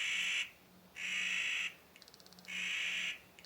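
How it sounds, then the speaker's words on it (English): Birds calling loudly in a tree directly above hikers in Yellowstone National Park, three long harsh raucous calls in quick succession, close and loud, with brief clicking chatter between them. "just had some birds go absolutely crazy right above us in a tree"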